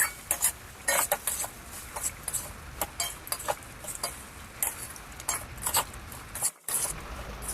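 Semolina being stirred into boiled mixed vegetables in a pan for a spicy Bengali dish: a spoon scrapes and taps against the pan in quick, irregular strokes, close and clear with no talking.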